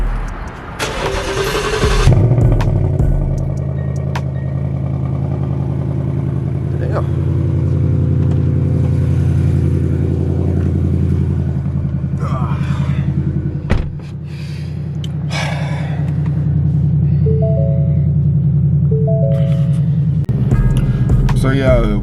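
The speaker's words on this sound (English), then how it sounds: "y'all heard that cold start" A car with a 5.0 engine is remote-started cold: a sharp cranking burst, then a steady, loud low rumble settling into idle for the rest of the clip. Faint chimes sound near the end, and speech is tagged over the engine.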